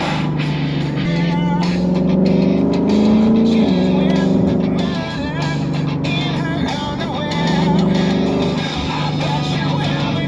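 Lexus IS F with an RR Racing intake and tune, its exhaust giving a steady, moderately loud drone with rising and falling pitch as the car accelerates and shifts. A voice talks over it at times.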